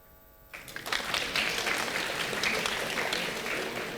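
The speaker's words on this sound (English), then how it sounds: "I think that was the applause from the GIC table." Applause from one table at a formal annual dinner breaks out after a short quiet and carries on as steady, moderately loud clapping from a group.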